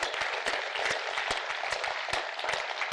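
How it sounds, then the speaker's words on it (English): Audience applause during a city's State of the City address, a continuous crowd clapping with sharp individual claps standing out, fairly loud and steady for three seconds. "Let's give those employees a big round of applause."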